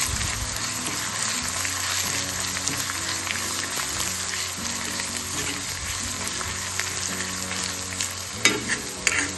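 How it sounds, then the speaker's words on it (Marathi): Grated radish being sautéed in a pan with garlic, asafoetida and cumin, a loud steady frying sizzle with repeated stirring and scraping strokes, close and continuous. "सर्वप्रथम मी हा मुळा घालून घेतली, जो मी स्वच्छ पिळून घेतलेला आहे, आणि याला मिनिटभर परतायचं"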